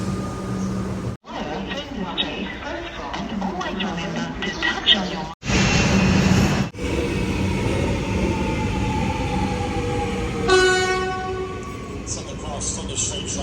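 A train rumbles into a station, steady rolling noise with screeching brakes near the end, while people chatter and talk nearby.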